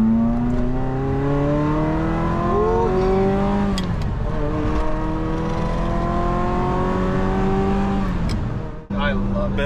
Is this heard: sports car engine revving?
yes